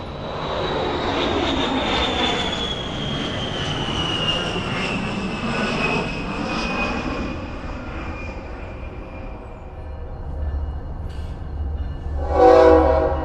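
An A-10 jet aircraft passes overhead with a loud roar and a high whine that gradually drops in pitch as it flies away, then fades.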